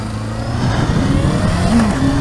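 Honda Hornet 599 motorcycle engine revving, a steady close drone that builds slightly in pitch, with no talk.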